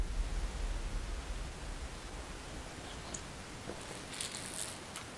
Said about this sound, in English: Now we get a hard rain to stop the fire.